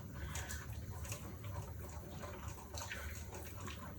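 Quiet, soft bubbling and gurgling of a tuna noodle casserole simmering, steady and close, with no talking.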